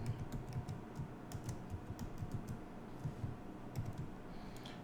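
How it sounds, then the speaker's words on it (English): Quiet, steady typing on a computer keyboard as a password is entered, a run of light key clicks in an uneven rhythm close by with no talking. "Let me type that again."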